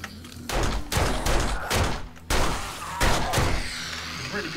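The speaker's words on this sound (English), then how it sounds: "that was a bit panicky shooting" Gunfire in the video game 7 Days to Die during a cathedral raid, several loud rapid bursts of shots separated by short pauses, close and punchy, with no speech over them.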